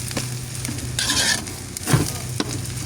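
Sinangag, Filipino garlic fried rice, stir-fried in a pan: close, continuous sizzling broken by scraping stirs of a utensil through the rice, with a low steady hum underneath.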